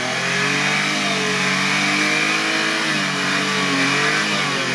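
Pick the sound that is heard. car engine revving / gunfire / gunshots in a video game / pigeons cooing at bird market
car engine revving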